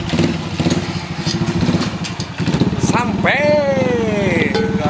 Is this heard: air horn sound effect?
no